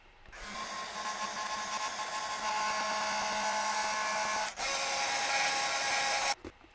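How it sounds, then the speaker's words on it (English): A heat tool runs steadily from low to high setting, blowing hot air onto the back of a craft card; a continuous whirring hiss, close and fairly loud, with a brief dip near the end before cutting off. "I have my heat tool here. And I'm going to start it on the lowest setting and then work to the highest setting, heating from the back."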